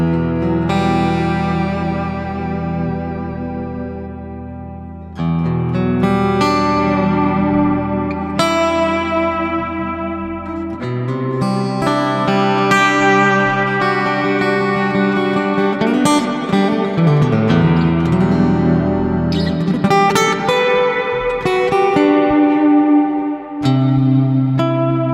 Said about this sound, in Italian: Metto una patch dedicata alla chitarra acustica, tiro su un po' di riverberi.